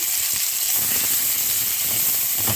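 Garlic sizzles in a pan with tomato sauce, a steady, close frying hiss that stays even throughout with no talk.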